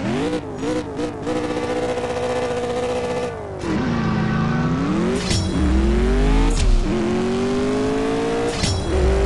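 Liberty Walk McLaren 650S race car in CSR Racing 2, engine revving up and down through rising and falling gear pulls, loud and close with a brief tire squeal, steady throughout without talk.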